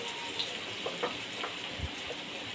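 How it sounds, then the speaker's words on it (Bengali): Chicken pakoras dropped one by one into hot oil, a faint, steady sizzle with soft pops and crackles and no talking. "এরপর তেলের মধ্যে আমি চিকেন পকোড়া একটা একটা করে ছেড়ে দেব"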